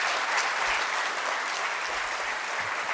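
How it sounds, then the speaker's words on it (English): An audience at a memorial lecture applauds a keynote speaker: a dense, even wash of many hands clapping at once, sustained at steady loudness for a few seconds with no voices over it. "May I request the audience to give a huge round of applause to our keynote speaker."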